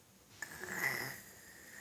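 A young girl imitates her father snoring with her voice, giving one drawn-out nasal, wheezy snore of about a second, close and fairly soft, against a quiet room.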